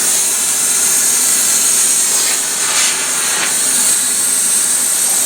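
Pressurized air rushes out of a compact air compressor's tank as it drains, a loud, steady, bright hiss that holds without pause and swells slightly in the middle.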